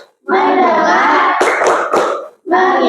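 Classroom children shout a chanted line together for the tepuk fokus clap game, then land three sharp, evenly spaced claps before starting the next phrase, all loud and close.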